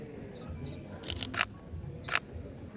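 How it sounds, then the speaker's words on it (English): A Sony a7R III shutter fires in two quick, crisp bursts of rapid clicks at 10 frames per second, close and fairly quiet, with faint electronic beeps just before. "The shutter's apparently redesigned"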